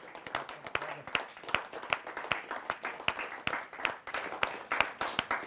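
An audience at a poetry gathering claps to welcome poet Dr. Kirti Kale, a steady patter of many hands at moderate distance that keeps going without a break.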